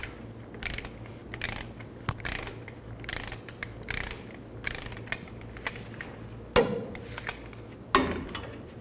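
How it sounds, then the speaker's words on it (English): A ratchet tightens the brake caliper bolts on the rear of a 1999-2007 Chevy Silverado 2500, giving bursts of quick clicking pawl strokes repeated at a steady pace, with a couple of louder metallic clunks near the end and no speech. "Then tighten the caliper bolts to 80 foot-pounds."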